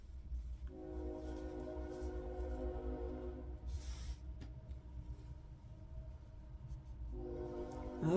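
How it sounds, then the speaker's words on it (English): A train passes at a distance, its horn sounding in long, steady blasts over a low rumble of wheels, with a second horn blast near the end, faint and far off. "Good morning, train."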